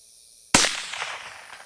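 A single sharp crack from a Rossi RS22M rifle in .22 Magnum fired outdoors, a sudden loud report that decays quickly into a brief echoing tail.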